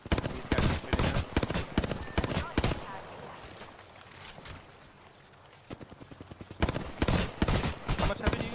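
Rapid bursts of gunfire from the battle royale video game Apex Legends, loud and close, with dense volleys at the start and end and a quieter stretch in between under faint voices.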